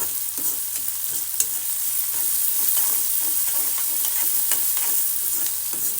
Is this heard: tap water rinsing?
no